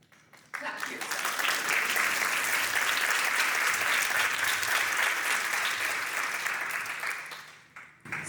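Sustained applause from a large seated audience swells in after a brief pause, holds steady for several seconds, then tapers off near the end.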